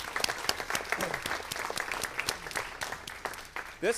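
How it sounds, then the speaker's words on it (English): At a city council meeting, a small audience claps for standing staff, distinct individual claps close by in an uneven patter, with a brief low vocal sound at the end. "Round of applause."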